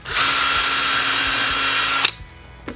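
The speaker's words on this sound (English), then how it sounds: "we're going to drill it out" A power drill using a nail as a drill bit whines loudly and steadily for about two seconds, then cuts off abruptly, leaving a quiet room tone.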